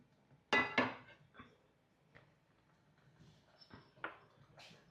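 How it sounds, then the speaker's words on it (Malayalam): A metal pan clanks down onto a stovetop with two sharp clattering hits, followed by a few quieter knocks and scrapes. "പാൻ അടുപ്പിൽ വയ്ക്കാം"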